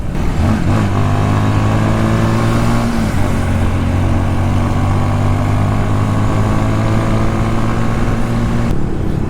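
A motorcycle engine losing pulling power on the road toward Daranak Falls in Tanay, Rizal, droning steadily and close with a strained, uneven note and no rising rev.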